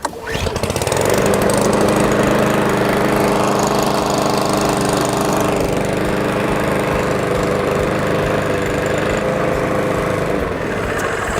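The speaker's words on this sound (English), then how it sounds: "that's the Cobra RM40C, a great little rotary mower with a rear roller" A Cobra RM40C rotary lawn mower with a rear roller is pull-started and then runs, its engine catching after about a second and holding a loud, steady, close drone with no talk over it.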